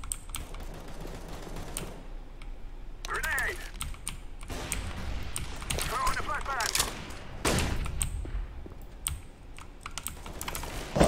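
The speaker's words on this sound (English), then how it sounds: "The bomb's down." A bomb is planted in the CS:GO video game with rapid keypad taps and beeps, mixed with bursts of gunfire and a player talking over the game sounds.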